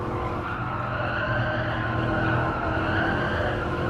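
Race car tires skid and scrub through an S-curve in a racing video game, a steady loud roar of engine and tire noise lasting throughout with no break.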